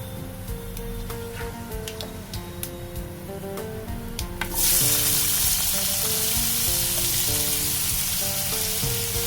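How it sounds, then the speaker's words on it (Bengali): Cumin seeds and chopped onion frying in hot oil for onion kachori filling, a steady close sizzle with small crackles that jumps to a louder, denser hiss partway through as the onion goes in, continuing evenly to the end. "জিরেটা আমি একটু হালকা ফ্রাই করে নিই, নিয়ে এবারে এর মধ্যে আমি পেঁয়াজটা দিয়ে দেব"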